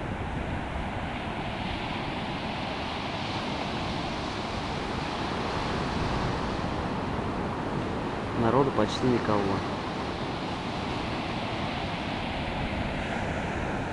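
Atlantic Ocean surf at Cocoa Beach, Florida, a steady broad wash of waves mixed with wind noise, with a brief spoken remark partway through.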